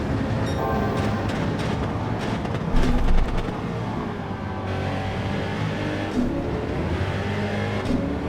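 A Porsche race car engine roars around Spa in Gran Turismo 7, a loud continuous drone with shifting pitch and a brief heavier burst partway through.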